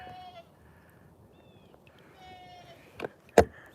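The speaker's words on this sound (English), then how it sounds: "That is a pissed off goat." A faint, distant bleat from an angry goat on an old mining property rises over low background rumble, followed by a couple of sharper knocks near the end.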